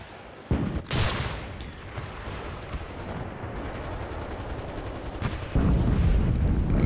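Rapid M1 Carbine gunfire in the video game Enlisted rattles steadily with heavy explosion bursts at the start and end, loud and dense throughout.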